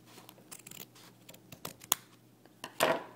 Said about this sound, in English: you're just going to take your scissors and trim at an angle